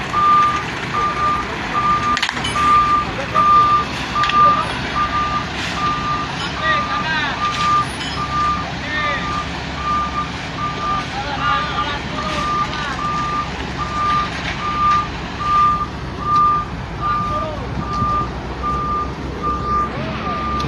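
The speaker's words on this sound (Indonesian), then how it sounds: "dari truk derek yang disiagakan" A tow truck on standby at a bus crash site on the Cipali toll road repeatedly sounds its reversing alarm, a steady evenly spaced beep, over loud engine rumble and traffic, with voices in the background.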